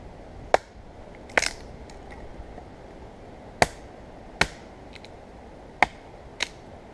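Sparks struck from a ferro rod onto feather sticks and wood shavings at a bushcraft tarp camp, six sharp, separate scrapes spaced unevenly over a low outdoor hiss, close and crisp.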